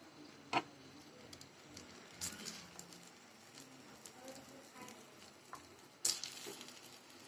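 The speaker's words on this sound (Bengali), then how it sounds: "কিশমিশ বাদামটা আমি একটু ঘিয়ের মধ্যে ভেজে তারপর উপরে আমি সার্ভ করব" Raisins and nuts fry in ghee with a faint, soft sizzle, broken by a few sharp clicks and clinks from stirring.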